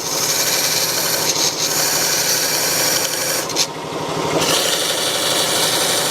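A woodturning tool cuts a taper into wood spinning on a lathe, giving a continuous, close rasping scrape with brief dips where the tool lifts off before biting again.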